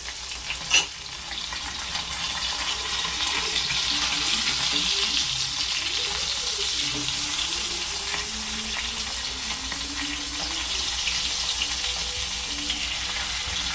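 Fish fries on a banana leaf in a pan with a steady, close sizzle and crackle, a sharp knock early on, and soft stirring noises throughout.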